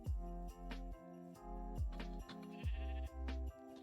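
Sheep in Minecraft bleat in a quick run of separate baas, clear and close, with brief pauses between calls and no voices over them.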